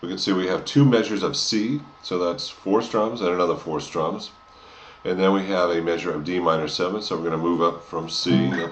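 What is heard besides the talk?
No distinct noise like a dog, phone or traffic.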